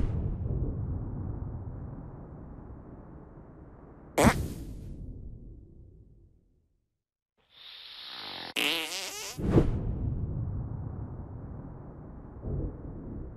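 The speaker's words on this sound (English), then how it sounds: "What is the sound of one anus farting?" A cartoonish fart from South Park: The Stick of Truth arrives as loud, low, rumbling blasts with abrupt cracks, broken by a stretch of silence and a short electronic squeal before another long, spluttering burst.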